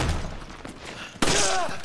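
Gunfire in Resident Evil 5 as a door is kicked in: after a stretch of murky background, a loud sharp blast hits at about 1.2 seconds, followed by ringing, fading shots and a brief reverberant tail.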